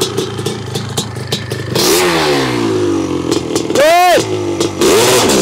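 A Honda CR500 two-stroke dirt bike idles and burbles, then revs hard and pulls away off the line in a rising, loud engine roar with a quick shift, while someone speaks briefly.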